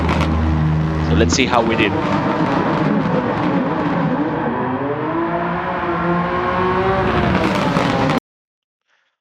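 A RUF CTR Yellowbird race car in a video game holds a steady flat-out engine drone in second gear, with a rising and falling pitch, while someone talks over it, before it cuts to silence.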